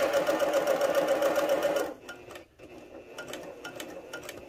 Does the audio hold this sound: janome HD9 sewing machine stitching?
yes